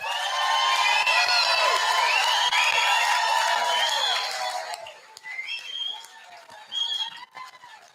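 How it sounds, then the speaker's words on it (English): A crowd at a live show in Frankston cheers and whoops loudly for several seconds, then the noise trails off into scattered shouts. "That's the best cheer we've had all night."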